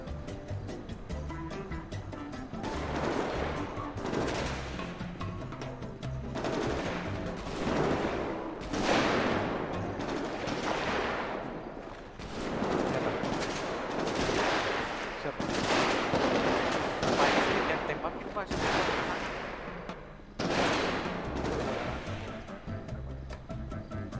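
Gunfire in a GTA V roleplay game: repeated bursts of shots in clusters across the whole stretch, loud and close, with a rapid machine-gun rattle at times.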